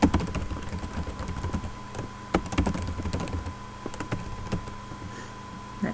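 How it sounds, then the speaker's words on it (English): Typing on a computer keyboard, a close run of uneven key clicks with a few louder strokes, steady over several seconds and no talking. "I will type that right here for you so you can see it nice and big."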